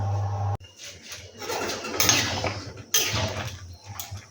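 A metal lid clatters onto a pot of boiling soybeans, with several close clinks and scrapes of cookware against a faint background hum.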